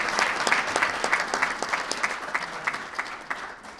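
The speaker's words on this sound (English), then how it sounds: "Let's give him a huge round of applause for coming." An audience at a public safety event applauds the head of the ATF. The clapping is loud and close, with sharp individual claps standing out over the general wash, and it fades gradually toward the end.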